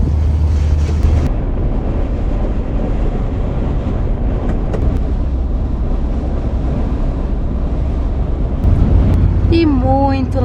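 Strong wind roars and buffets the microphone continuously inside or beside a moving Kombi van, a loud rumbling low roar throughout, with a short voiced sound near the end.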